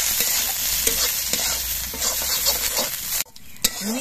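Neem leaves fry in hot mustard oil with a loud, dense, close sizzle and stirring scrapes, which cut off abruptly near the end, leaving a short scrape and a final clack.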